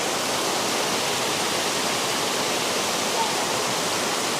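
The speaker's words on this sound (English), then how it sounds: "I got real close up here to the falls. It's a little bit small as they're coming out." Rushing water from a small roadside waterfall, heard up close as a steady, loud, even roar that fills the whole clip with no other sounds.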